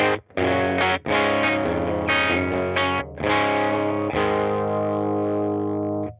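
Electric guitar played through a UAFX Woodrow '55 amp pedal on its instrument channel, set fairly clean: loud, close strummed chords and ringing held notes with short pauses between phrases, no voices.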